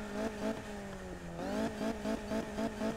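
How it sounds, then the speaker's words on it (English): Exhaust note of a widebody Ford Focus RS in Need for Speed Payback, a loud close engine revving in rising pulses with gear-shift drops and repeated throttle blips, no music or talk. "You can hear the exhaust on this"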